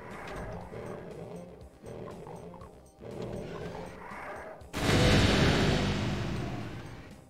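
Heavy booming gunfire in the Doom game's Heretical mod on max difficulty, with a few rumbling blasts followed by a loud, long explosive roar that slowly dies away, alone with no talk.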